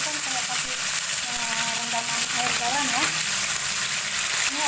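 Oil sizzles and crackles steadily in a pan as torch ginger fries, with a voice speaking faintly underneath.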